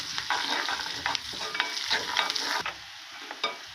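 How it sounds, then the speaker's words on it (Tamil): Steady sizzling of food frying in a pan, with repeated scraping strokes of a spoon stirring through it, close and fairly loud, no voices. "எல்லாத்தையும் நல்லா வதக்கிட்டு அதில் கொட்டிக்கலாம்"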